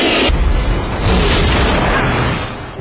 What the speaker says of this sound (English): The potential of the torpedo turns into an explosion and is transferred into physical waves.